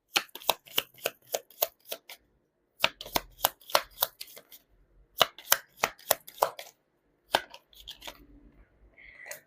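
Tarot cards are shuffled in quick bursts of crisp riffling snaps and slaps, close and clear, separated by short pauses with no talking.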